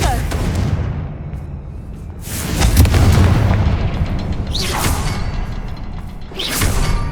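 Confringo spell blasts in Hogwarts Legacy, a few whooshing booms with rumbling thuds spread across the clip, loud and near over constant game noise, with a voice talking.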